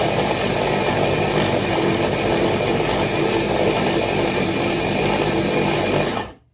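A Ninja food processor grinding meat into a smooth paste for homemade deli meat: a loud, steady motor whir and churn that runs for about six seconds, then cuts off abruptly.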